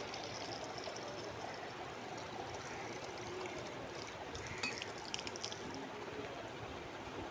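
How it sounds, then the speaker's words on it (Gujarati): Water runs and trickles as a lota pot is filled at a temple's water source, a soft steady flowing wash with faint splashes, no one speaking. "હવે પાણીનો લોટો ભરી લઈએ."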